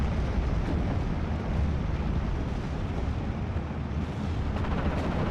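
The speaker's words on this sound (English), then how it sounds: "Artillery is going wild." Artillery fire in the wartime strategy game Steel Division: Normandy 44, rendered as a loud, unbroken rumble of overlapping distant blasts that keeps going without pause.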